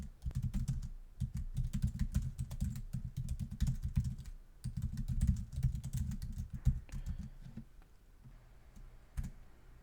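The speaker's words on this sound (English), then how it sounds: "suppose that we typed out this line" Typing on a computer keyboard, a dense run of rapid clicking keystrokes in bursts with short pauses, close and clear, no voices.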